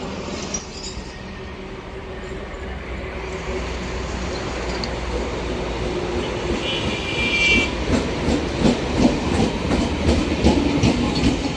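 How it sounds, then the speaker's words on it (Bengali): A Sealdah-to-Dankuni local electric train rumbles into Bally Halt station, growing louder with a rhythmic clickety-clack of wheels over the rails as it nears and passes close by. "এখন যে লোকালটা আসছে এটা হচ্ছে শিয়ালদা থেকে আসছে ডানকুনি পর্যন্ত যাবে"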